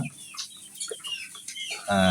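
Backyard chickens kept on beetle larvae cluck in short bursts close by, and a louder, busier burst of clucking comes at the end.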